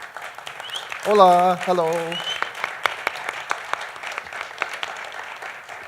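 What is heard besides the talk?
audience applause welcoming game designer Eric M. Lang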